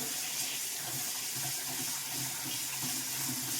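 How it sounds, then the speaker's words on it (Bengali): Tap water runs steadily into a kitchen sink while rice is being washed, a continuous close splashing gush with no voices. "এখান চালটা ধুচ্ছি"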